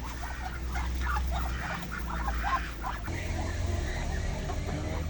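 Rhode Island Red chickens, including young roosters, in a poultry yard shared with ducks, clucking and calling in scattered bursts over a steady low hum, with a voice talking partway through.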